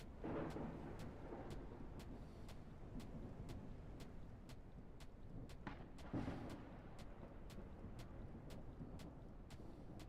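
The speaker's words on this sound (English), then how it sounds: "It can't just rain, it has to have, like, sarcastic lightning with it." Steady rain and a low rumble of thunder fill a stormy scene in the video game Out of Ore, a continuous wash of sound with brief swells and faint regular ticks.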